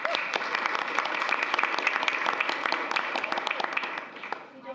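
Applause for student artists at a school committee meeting, many hands clapping at close range with distinct individual claps standing out, tapering off toward the end.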